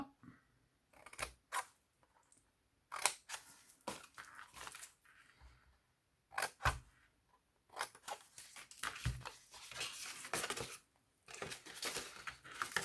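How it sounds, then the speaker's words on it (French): Large scissors cut through pieces of a cardboard Valentine's gift box, with close, scattered bursts of snipping and crinkling paper separated by short quiet gaps. "vous allez venir couper les deux morceaux qui sont là, c'est-à-dire le carré, enfin le rectangle du milieu de chaque côté. Alors, on les coupe."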